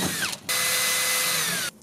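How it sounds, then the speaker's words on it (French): A cordless drill bores out old rivets holding a licence plate, giving a short, close whine of about a second and a half that stops abruptly, with no talking. "je vais retirer ma plaque et je vais percer les anciens rivets"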